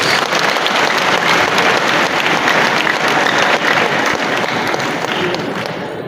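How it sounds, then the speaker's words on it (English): A large crowd applauds Lagos at a gathering with a traditional ruler, dense steady clapping filling the whole stretch, loud and close, tapering slightly near the end. "Clap one more time for Lagos."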